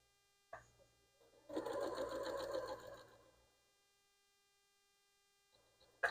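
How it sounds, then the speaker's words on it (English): A sewing machine runs in a steady whirring burst for about two seconds, stitching fabric close up for paper-pieced quilting, with a click before and after in a quiet room. "we're gonna go ahead back to the sewing machine"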